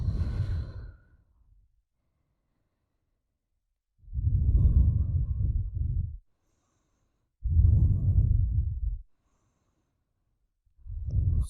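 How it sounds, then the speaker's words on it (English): Slow, deep breaths through the nose and out through the mouth during a low-body yoga flow, three long airy exhales rising and falling with quiet gaps between, close and alone. "Maybe you take a deep breath in through the nose"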